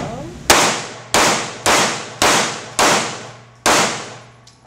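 Six sharp handgun shots crack out at a shooting range during a timed drill, evenly spaced about half a second apart, each loud and close with a short decaying ring.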